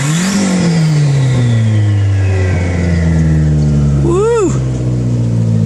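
A car engine runs with no exhaust hooked up, a loud steady raw drone with shifting pitch as it revs, and a short rising-falling whine burst near the end.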